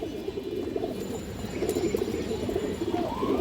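Black-throated (kalo gola) pigeons with stone eyes cooing softly in a loft, low repeated coos over a steady murmur of other birds, with no talking.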